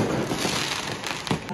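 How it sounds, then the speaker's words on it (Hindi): Fireworks go off at a New Year celebration, a dense, loud rumbling crackle of bursts with a sharper bang near the end, heard close by. "फायर शॉट्स कहाँ पे हो रहे हैं?"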